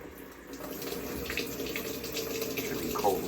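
A Maytag Bravos top-load washer in test mode fills with cold water, giving a steady rushing gush of water into the drum, continuous and close throughout.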